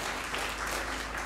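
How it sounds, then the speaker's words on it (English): An outdoor audience applauds at a park-and-ride opening for a county executive, a short burst of steady, moderately loud clapping. "how about a big round of applause for King County Executive Dow"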